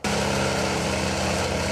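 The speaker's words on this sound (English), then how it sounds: "A cacophony of chippers and chainsaws" Wood chippers and chainsaws trimming palm trees in the Coachella Valley make a loud, steady, high-revving engine drone that starts abruptly and holds without a break.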